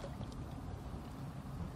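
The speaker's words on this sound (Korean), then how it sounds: "바다 소리도 들리고" Sea sound at a beach during a clam-digging outing at sunset: a steady, fairly quiet wash of water and wind with no distinct wave breaks, continuous throughout.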